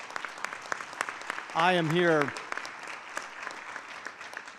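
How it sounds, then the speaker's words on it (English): Audience applause at a panel discussion of the Barbershop Conference, a steady scattered clapping from a seated crowd, interrupted briefly by a single voice speaking over it. "who deserve an enormous applause for this"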